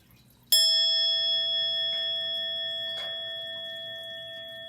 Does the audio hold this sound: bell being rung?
yes